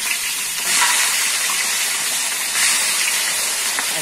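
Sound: cassava (mandioca) frying in oil

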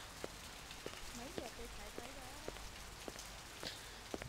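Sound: pouring rain outside in the video game Blade Runner

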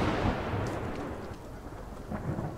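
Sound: thunderstorm in the video game The Medium

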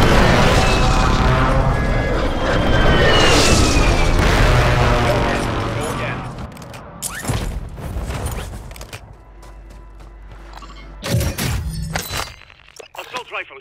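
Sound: air strike explosions in video game Call of Duty Warzone

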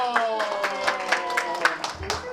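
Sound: applause at a first birthday party

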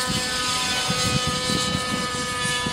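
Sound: engine of Align Trex 600 RC helicopter speeding up

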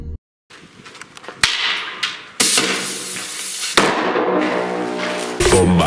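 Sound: sodium reacting and exploding with watermelon

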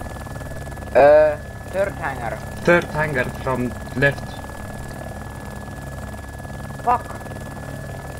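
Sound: helicopter in a video game

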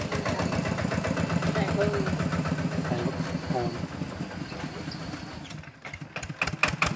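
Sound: tractor engine running

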